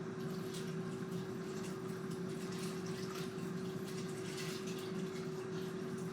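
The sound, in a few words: water poured over macaroni in a steamer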